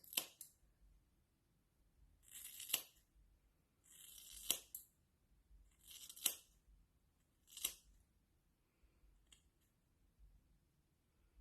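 Several distinct snips of ordinary scissors cutting bangs, close and crisp, spaced a second or two apart in a quiet room.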